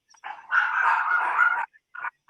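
A dog gives one long, drawn-out bark or howl, then a couple of short yelps, loud and fairly close during a podcast recording, with no one talking over it.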